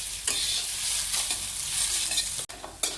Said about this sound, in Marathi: बटाटा छान परतला बघा तुपामध्ये